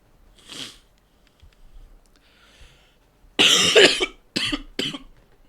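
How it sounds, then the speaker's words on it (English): A faint cough early on, then a burst of harsh, loud coughing followed by two shorter coughs, close to the listener. "I'm gonna be going on a coughing streak."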